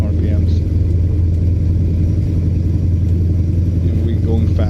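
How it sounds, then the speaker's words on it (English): Heavy truck engine in American Truck Simulator, driving on an Australian road, holds a steady, loud low rumble throughout with its revs building gradually, while a voice talks over it. "The rev comes up, RPMs."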